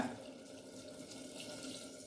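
Water is poured steadily into a chutney mixture made with eggplant and potato for idli and dosa. The pour is a continuous close trickle lasting a couple of seconds, with no talking.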